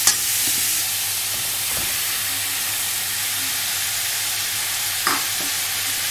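Zucchini hits hot oil among stir-frying vegetables for spicy zucchini noodles, producing a loud, dense, steady hiss with a couple of sharp stirring clanks at the start and near the end.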